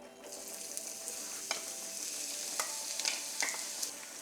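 Onion fries in hot oil with a soft, steady sizzle, broken by a few faint clicks and scrapes of stirring, quiet and close.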